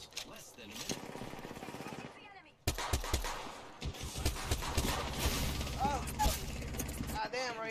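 Video game battle royale gunfire: rapid bursts of shots and impacts over a busy, loud mix, with a voice speaking briefly amid the action.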